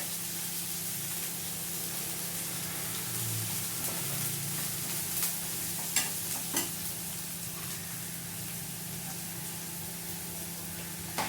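Tomato and onion fry in a pan for masala dosa filling, a steady close sizzle and hiss with occasional scraping stirs and spatters, heard alone without speech.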